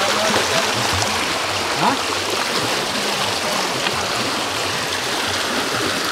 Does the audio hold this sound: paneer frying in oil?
no